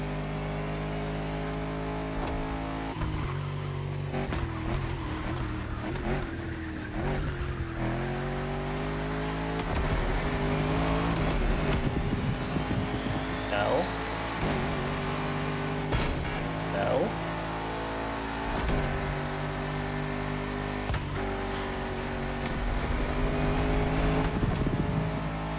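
Lamborghini Countach in the racing game The Crew Motorfest, engine droning and revving under sustained driving with gear changes and surges, while people talk over it at times.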